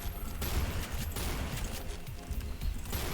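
Rapid gunfire from the top-down shooter Hotline Miami, a dense, continuous clatter of shots that fills the whole stretch at fairly steady loudness with no pauses.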